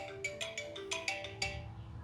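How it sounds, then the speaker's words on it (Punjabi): A phone ringtone chimes in a repeating pattern of short bright tones, fairly soft, with a low hum underneath and no talking. "ਲਵਲੀ ਦਾ ਫੋਨ ਇਹਨੇ ਕੀ ਕਹਿਣਾ ਹੁਣ"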